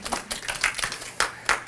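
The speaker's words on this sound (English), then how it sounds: "Give yourselves a round of applause." An audience claps at an indoor evening lecture, with scattered, uneven hand claps and sharp individual strikes close by rather than sustained applause.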